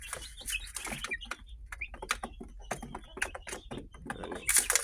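Chickens on a backyard chicken farm, including a rooster, cluck, chirp and squawk in scattered bursts at close to mid distance, with a faint voice in places and a louder flurry near the end.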